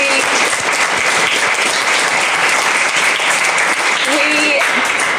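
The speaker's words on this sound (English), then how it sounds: "Huge round of applause." Sustained applause from a live podcast audience at a London Marathon event, dense and steady throughout, with a few voices and cheers mixed into the crowd clapping.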